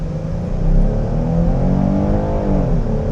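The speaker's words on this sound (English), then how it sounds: "We're gonna stop in a moment and see how this vehicle accelerates." Heard from inside the cabin, a 2027 Chrysler Pacifica minivan with a naturally aspirated engine accelerates hard, its whining engine note climbing steadily in pitch over a low road rumble.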